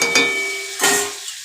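Chickpeas and chicken mince fry in a pan while being stirred for ghugni, a close, loud sizzle with scraping stir strokes and no talking.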